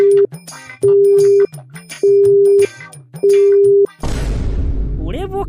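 Telephone busy signal in a comedy cartoon, four loud, close, evenly spaced beeps with short gaps between them, followed by a burst of noisy rumble.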